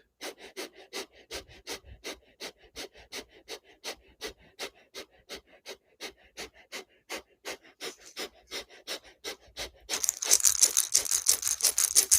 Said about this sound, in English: Transition breathing through the nose.